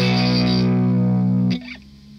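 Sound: distorted electric guitar playing a B bar chord

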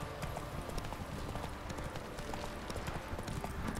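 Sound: horse galloping through the castle in The Witcher 3 video game

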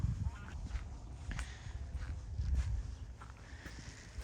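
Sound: noisy migratory birds around a park

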